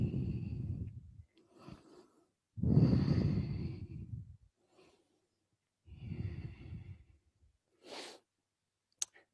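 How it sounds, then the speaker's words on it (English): Deep, slow breaths and long exhales during a yoga session, several drawn-out breathy pulses with pauses between, close and fairly soft, with a couple of quick clicks near the end. "Take that breath. Exhale into the fold."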